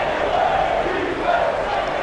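Loud basketball arena crowd in a college sports video game, a dense, steady roar of many voices with swelling shouts, close and continuous throughout.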